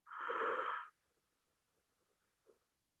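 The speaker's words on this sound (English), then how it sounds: "Deep breath in." A deep breath in during a yoga session, one close, airy inhale of almost a second, then near silence with a faint soft rustle.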